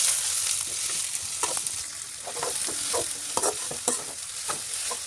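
Chopped onions fry in hot oil with cumin, a close, steady sizzle broken by repeated scraping strokes of a spoon stirring the pan.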